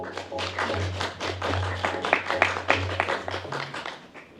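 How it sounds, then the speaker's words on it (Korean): Applause from a media audience at a Hyundai Ioniq 9 preview event, moderate and fairly quiet clapping that continues steadily for a few seconds over a low hum. "모두 큰 박수로 맞아주시길 부탁드립니다."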